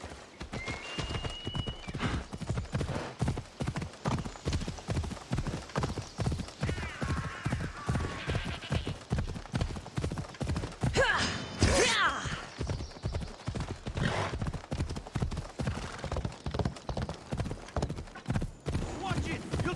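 Horse hooves gallop in Assassin's Creed Odyssey, a fast, steady clip-clop rhythm that carries throughout, with a whinny and voices heard now and then over the hoofbeats.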